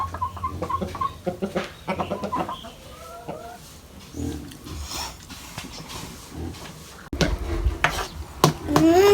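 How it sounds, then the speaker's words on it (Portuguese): Chickens cluck in a rural countryside yard, with repeated short clucks in bursts, some close and loud, over a light outdoor background and no talking. "E as galinhas."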